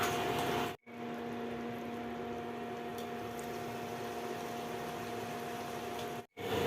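Water boiling in a covered pot with spinach over a high flame gives a steady, soft bubbling hiss with a faint hum. It runs continuously, broken only by two brief dropouts near the start and end.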